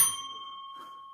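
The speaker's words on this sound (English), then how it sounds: "The element is my bell." A small hand bell is struck once, a clear close ring that hangs in the air and slowly fades, with a faint rustle near the end.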